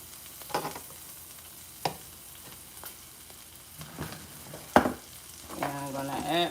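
Butter sizzling in a frying pan for a Mexican stir-fry, a low crackling hiss broken by a few sharp clinks and scrapes of a utensil, ending in a brief rattling stir.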